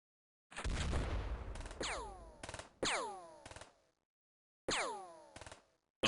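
Video game gunfire in X-COM: a burst of shots followed by several separate volleys, each a loud crack with a ringing, descending tail and short gaps of silence between them.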